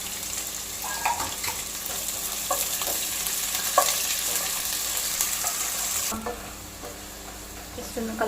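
Onions and masala fry with cloves and cardamom in a pan for fried chicken biryani, a constant loud sizzle broken by spoon stirring and scraping, with the tone shifting slightly near the end.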